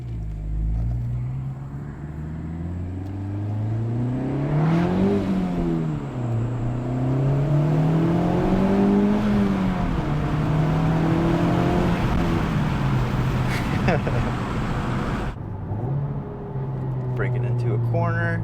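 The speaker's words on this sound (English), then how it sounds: "you can hear like the turbo just a little bit" A Honda Civic Type R drives along with a steady engine drone that rises and falls through gear changes, faint turbo whistle underneath, recorded from inside the cabin while people talk.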